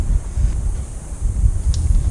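Gusty wind buffets a microphone outdoors, a loud low rumble that swells and dips irregularly throughout with no voices.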